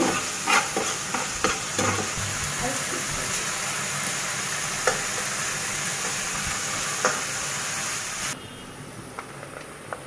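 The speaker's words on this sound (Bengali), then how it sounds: "তার জন্য আমি ভালো করে কষিয়ে নিচ্ছি।" Spice paste for a dried loitta fish curry being stirred and fried in a pan, with a steady sizzle and repeated scraping knocks of the spoon, continuing close and even before quieting near the end.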